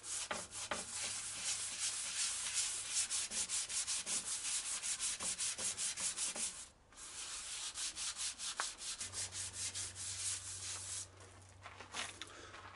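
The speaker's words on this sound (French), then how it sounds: "Je vais poncer au 240 délicatement." Steady back-and-forth rubbing of 240-grit abrasive paper worked by hand over hardened body filler on a limestone piece, continuous rhythmic strokes close by with a brief pause midway.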